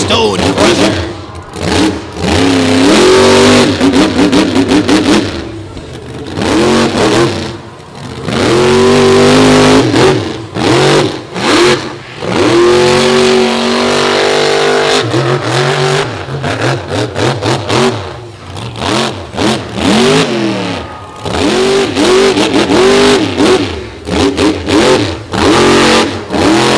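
Stone Crusher monster truck at a beach show, its engine roaring loud and close in repeated surging revs that climb and fall throughout.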